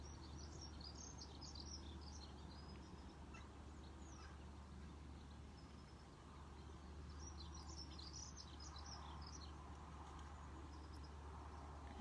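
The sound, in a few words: birds singing outdoors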